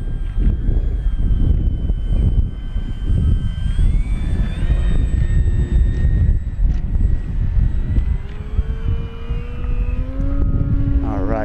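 An FMS DeHavilland Beaver 2000mm V2 RC airplane flies past, its engine drone loud and close with a rising then falling pitch as it sweeps by, while people talk underneath.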